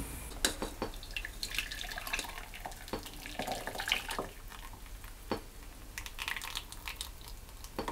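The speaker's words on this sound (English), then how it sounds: "I'm just going to sieve that into a jug and then pour it back into the saucepan" Cream pours and trickles steadily through a sieve into a jug, with small clinks and taps scattered throughout, close up and fairly quiet.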